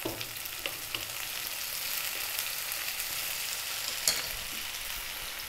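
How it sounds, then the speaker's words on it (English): Ripe tomatoes hit a hot frying pan during a garlic-ginger Chinese fried fish recipe, giving a steady, bright sizzle with small scattered pops and crackles throughout, no talking. "Now to that we're gonna add a couple of tomatoes."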